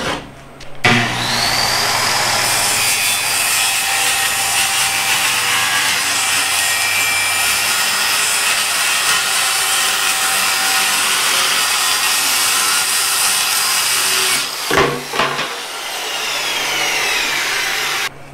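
A wooden board, already ripped to width, is cut to 24 inches in a shop cart build with a steady, loud power saw whine running nearly the whole time, a brief pause and restart near the end.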